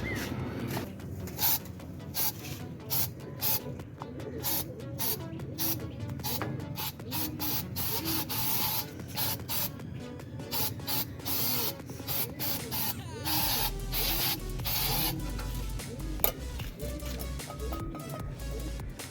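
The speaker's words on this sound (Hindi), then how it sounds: "स्प्रे अंदर किया है और बहुत अच्छी स्प्रे है कीड़ों वगैरह के लिए स्प्रे की है।" Insecticide spray hisses inside a bird cage holding pigeons, with a steady broadband spray noise running throughout, fairly close, with a few brief bursts and faint background sounds.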